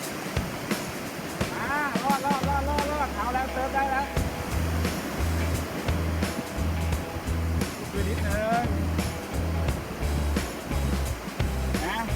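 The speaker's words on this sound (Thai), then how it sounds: "วิ่งตัดคลื่นไปเลยไม่ต้องกลัวนะครับ" An electric remote-control surfboard boat, NQD brand, cuts through ocean surf close by. Its engine drone runs under the constant roar of breaking waves and wash.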